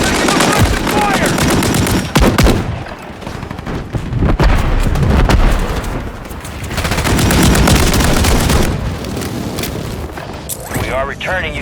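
Loud bursts of automatic gunfire and explosions in Call of Duty Warzone 3, rapid rattling fire and heavy booms nearly continuous, with game voices mixed through the battle.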